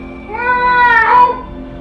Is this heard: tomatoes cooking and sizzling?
no